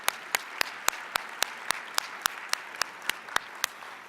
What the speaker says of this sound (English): How about one more round of applause for all of the students and teachers who shared their gifts with